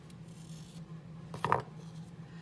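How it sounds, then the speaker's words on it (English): A single quick snip of scissors cutting crochet yarn, close and brief in an otherwise quiet room with a faint steady hum underneath. "And grab your scissors, tie it off."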